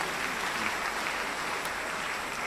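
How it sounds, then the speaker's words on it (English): A congregation at a priestly ordination Mass gives a round of applause for the newly ordained priests, producing a dense, even wash of clapping that stays loud and constant throughout. "Can we give them a round of applause once more"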